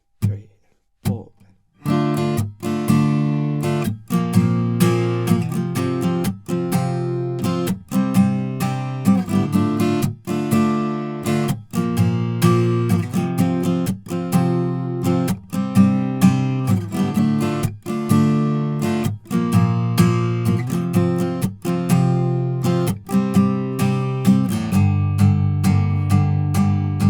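The chorus of a song strummed on guitar, a steady rhythmic chord pattern of bright, ringing strums played alone at close range for nearly half a minute after a few opening taps.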